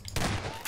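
A shotgun blast rings out in Half-Life 2, a single loud, close burst with a short ringing tail, followed by a quieter second thump near the end.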